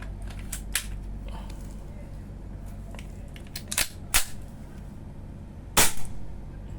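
A pistol fired to test a Chinese-made magazine, with a few sharp, close cracks spaced a second or two apart amid small mechanical clicks and handling noise.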